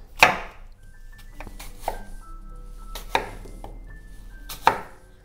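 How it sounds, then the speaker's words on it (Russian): A kitchen knife cuts two apples into wedges on a board, giving four sharp, separate chops spaced about a second apart, close and clear against a quiet room. "И нарезаю эти яблоки дольками."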